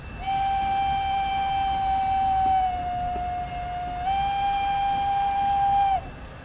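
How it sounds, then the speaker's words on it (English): A steam whistle on an SDJR 7F 2-8-0 locomotive in Train Simulator, one long continuous shrill blast lasting about six seconds, dipping briefly in pitch midway before cutting off sharply. "This whistle is fantastic."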